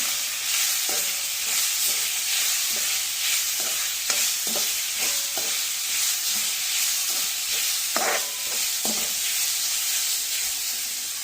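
Crushed spice paste sautéing in a pan for an Amara payar (broad bean) thoran, a steady close sizzle with scattered scraping stirs and light clinks throughout, no voices.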